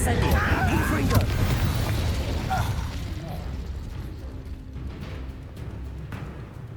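Spell blasts from Hogwarts Legacy, including fire and explosive charms, go off as dense crackling bursts and booms up front. They settle into a lower rumble while voices talk over the action.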